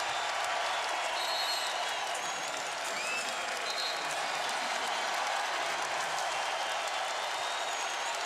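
A basketball arena crowd at a Texas A&M versus Baylor game in College Station roars with cheering and applause, a loud continuous wash of noise with whistles and shouts rising through it.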